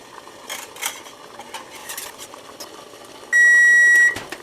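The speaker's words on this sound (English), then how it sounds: "timer's gone off" Kitchen timer going off with a single sustained electronic beep near the end, over faint background kitchen clinks and stirring sounds while vanilla ice cream custard cooks.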